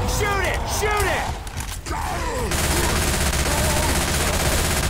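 Gunfire from players shooting at the Tank in Left 4 Dead 2, dense rapid shots mixed with game noise and growls, loud and continuous, with voices talking over it.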